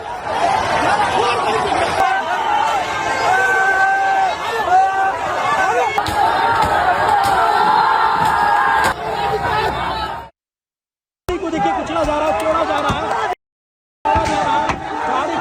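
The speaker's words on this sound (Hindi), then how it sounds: "ये देखिए कैसे भीड़ का एक हिस्सा पुलिस की गाड़ियों पर हमला कर रहा है।" A large angry crowd at a protest march attacks police vehicles, with dense shouting and chatter filling the air continuously, loud and close, broken by two brief silent gaps.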